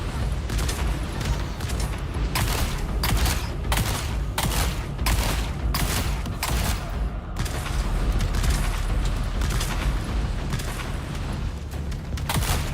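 Rapid bursts of rifle fire in a video game, repeated volleys across the whole stretch over a constant dense rumble of game noise, loud and close.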